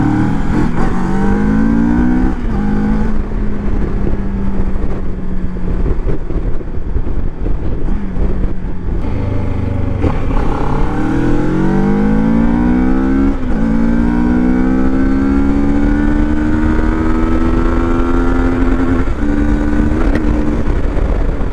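A 2025 CFMoto 700MT touring motorcycle, roughly 70 hp, pulls steadily on the road with a rising, revving engine note and strong wind rush across the whole stretch, with no talk.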